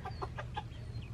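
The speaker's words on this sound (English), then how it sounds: "That's a rooster." Several short clucking calls from a rooster, fairly close, over a steady low hum.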